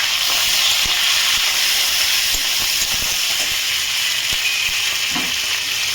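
Onion and tomato fry in a pan with ginger, giving a steady close hiss and sizzle with occasional faint clicks and stirring taps, and no talk.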